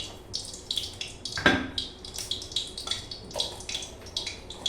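Water poured into a cooking pot while making a bottle gourd peel mash, splashing and trickling in short uneven bursts with one sharp clink, fairly quiet and with no talking.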